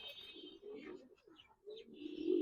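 Male Giribaz pigeon at a coloring pigeon farm, giving soft, low coos and brief fluttery calls close by, alone without talk.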